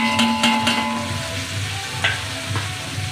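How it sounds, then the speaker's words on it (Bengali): Tomatoes and green chillies frying in oil for a vegetable biryani give a steady close sizzle, with a few sharp stirring scrapes near the start and more later on. "এবার একটু ভেজে নিই, তারপরে মশলা দেবো।"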